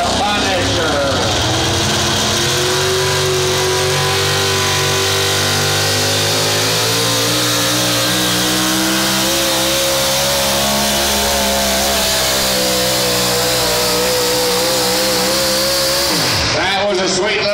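The pulling truck known as the Punisher roars through a pass at a Missouri truck and tractor pull, a loud sustained engine scream rising in pitch over many seconds, with crowd and announcer voices underneath before it abruptly cuts off.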